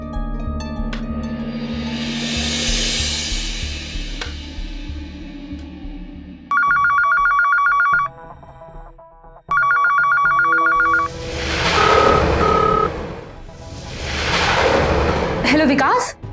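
A landline telephone bell rings in two long bursts, loud and close, set amid background music and dramatic sound effects in an Indian television crime drama.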